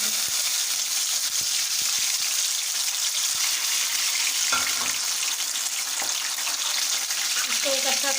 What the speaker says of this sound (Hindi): ये मैंने 2 अंडे लिए हैं, जिसको मैंने चिकन और आलू के पानी में मिक्स कर लिया था। इसको हम फ्राई कर लेंगे।